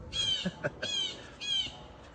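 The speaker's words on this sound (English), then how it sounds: "The birds are amening me right now." Harsh bird squawks come in three bursts with short gaps, fairly close and loud, over faint background noise.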